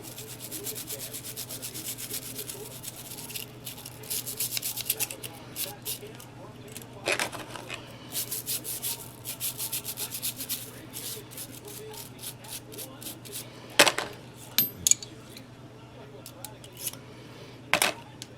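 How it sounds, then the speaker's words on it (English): A gun being scrubbed with a brush while it is cleaned, making steady close rubbing and scratching strokes in bursts, with occasional small clicks and clatters of parts and tools. "A little gun scrub."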